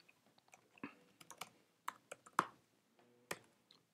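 Computer keyboard keys clatter in quick irregular bursts of clicks while a name and email address are typed in, close and fairly quiet, with short pauses between runs.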